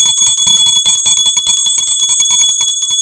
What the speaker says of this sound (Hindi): आप जो है भगवान को घंटी बजाते हुए धूप दिखा देवें